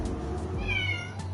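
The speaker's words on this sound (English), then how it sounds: "Why are you meowing like that for?" A cat meows close by, one clear drawn-out call with a rising and falling tone, heard alone over a faint steady background hum.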